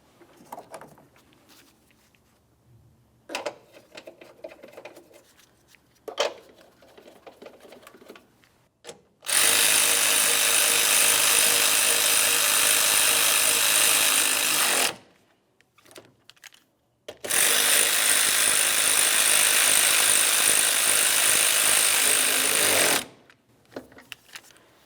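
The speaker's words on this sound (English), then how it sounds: "continue on with your two 8mm headed bolts" A power tool drives 8mm-headed bolts while a 2011-2019 Ford Explorer starter is fitted, with two long, loud, steady buzzing runs of several seconds each, separated by quiet gaps and softer handling clicks.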